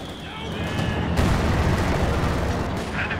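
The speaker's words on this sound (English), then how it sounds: "big connection there from the heavy mortar" Heavy mortar shell striking in a World War II strategy video game, a loud sustained explosive roar and rumble that swells and lingers, with a caster's voice faintly beneath.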